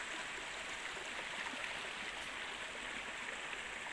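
River flowing: a steady, even wash of rushing water, close and moderately loud, with no voices over it.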